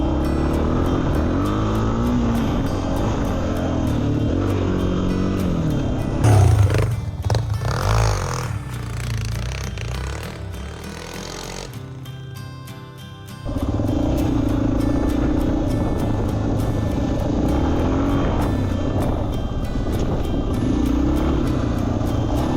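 A dirt bike ridden through snow drones with a continuous engine roar, dropping to a rougher, quieter stretch in the middle before the steady motor note returns, fairly close throughout.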